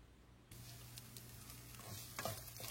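Spices tempering in a pan for pepper rice, a faint steady sizzle that swells as something hits the hot oil, with light stirring scrapes.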